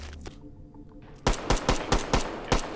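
A gun fired in the VR shooter H3VR, after a quiet pause, a rapid series of seven or eight loud, evenly spaced close shots.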